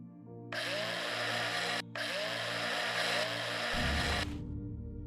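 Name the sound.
space drill drilling in Breathedge video game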